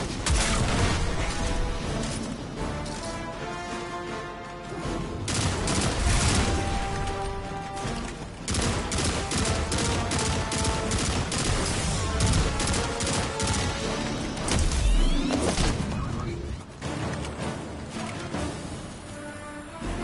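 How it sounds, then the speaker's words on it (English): Weapon fire from a grenade launcher in the Destiny 2 video game, a dense run of booming blasts and crashing impacts heard loud and continuous over a layered game soundtrack. "let's see this grenade launcher"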